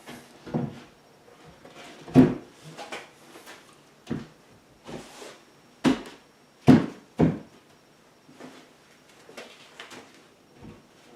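A newly built wooden door on a chicken coop, caulked at the sill, is swung open and shut several times, giving sharp knocks and thuds with softer creaks and rattles between them, close and loud, with no talking.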